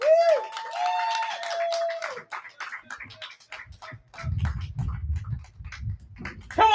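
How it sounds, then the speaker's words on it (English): Audience applause fills a poetry slam in Dayton, with scattered clapping building through the room after a tonal cheer or whoop near the start, becoming a fuller burst of hands toward the end. "Keep the applause going from that table."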